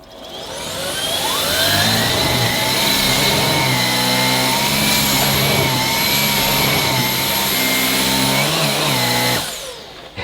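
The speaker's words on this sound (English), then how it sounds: "Let's try it on my regular carpet." Vacuum cleaner on boost setting pushed over ordinary household carpet, a loud steady high-pitched motor roar that rises and shifts slightly as it moves, then cuts off near the end.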